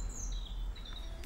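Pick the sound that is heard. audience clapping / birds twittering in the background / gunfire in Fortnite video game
birds twittering in the background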